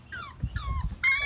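A Bernedoodle puppy whimpers in three high, thin, falling whines close by on a porch, with soft low scuffling and thumping beneath them.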